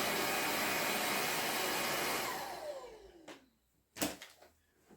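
A Ganiza V25 cordless vacuum runs on its high setting as a steady, loud broadband whir for over two seconds, then spins down with a falling tone, followed by a few brief bumps and one sharper knock.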